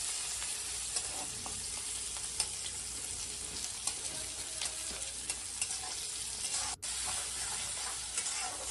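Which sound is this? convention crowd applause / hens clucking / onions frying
onions frying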